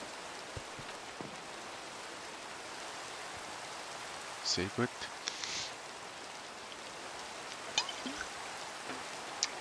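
Rain in the video game Minecraft falls as a steady soft hiss, broken by a few brief clicks and bursts, while someone speaks briefly over it.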